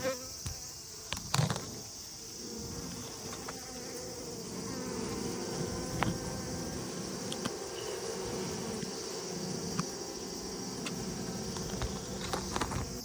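Japanese honeybees buzz steadily around their hive, a dense continuous drone close to the microphone, with occasional louder passes of individual bees flying near.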